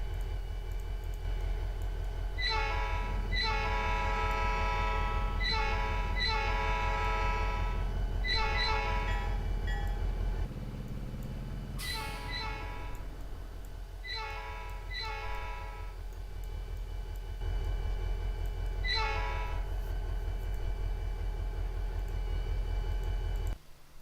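Southern SD40-2 diesel locomotive in the Trainz game, a steady low engine rumble under repeated multi-tone horn blasts sounding in groups of short and long notes.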